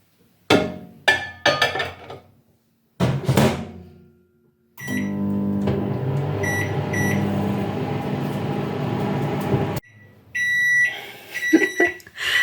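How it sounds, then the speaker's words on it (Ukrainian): A few clicks and beeps, then a microwave oven hums steadily for several seconds, followed by more beeps and clicks after it stops. "І ставлю мікрохвильовку на 3 хвилини"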